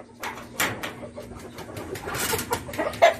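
Chickens cluck and murmur in short, irregular bursts close by, with scattered rustling in the background.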